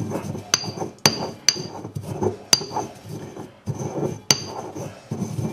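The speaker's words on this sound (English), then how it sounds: "Try to grind the herbs up fairly fine so they'll stick to the roast better." Herbs ground fine with salt and ground pepper as a rub for a roast, heard as a series of sharp, irregular knocks and taps with scraping between them, close and fairly loud.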